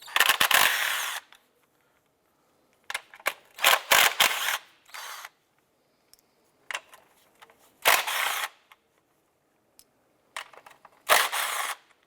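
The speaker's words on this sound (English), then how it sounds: "Using a 10mm socket, let's remove the nuts securing the coils." A 10mm socket removes the nuts holding the ignition coils on a 2001-2005 Honda Civic, giving repeated short bursts of ratcheting and tool clatter with quiet gaps between them, fairly close and with no talking.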